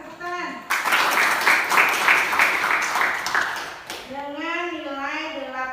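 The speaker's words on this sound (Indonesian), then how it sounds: "Tepuk tangan untuk Zahra." Classroom applause greets the announcement of the best group after a day's evaluation, a burst of clapping lasting about three seconds that fades out, with a voice talking before and after it.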